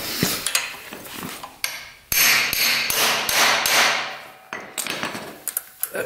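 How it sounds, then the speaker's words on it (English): Repeated hammer blows on a socket set over a mini bike's flywheel to knock it loose, about eight sharp metallic strikes in an uneven rhythm, close and loud in a workshop with no talking. "So we're going to put a socket over it and then give it a nice good pound."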